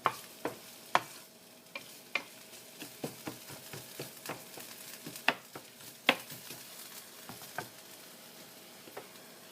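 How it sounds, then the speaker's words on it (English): Ginger and garlic stirred in hot oil, with a soft steady sizzle broken by irregular clicks and scrapes of the utensil against the pan, close and fairly quiet. "Just kind of stir it around, get oil all over the different pieces of ginger and garlic so it uniformly cooks"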